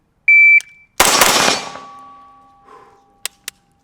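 Airsoft replica pistol on a training range: a short electronic shot-timer beep, then a loud metallic clang ringing out and decaying, followed later by two quick, sharp, snappy shots close together.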